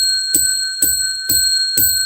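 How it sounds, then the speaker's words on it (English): A small metal bell is struck four times at a steady, even pace, each ding ringing out bright and sustained over a continuous tone, loud and close, with no voices. "I promised I'd ring the bell"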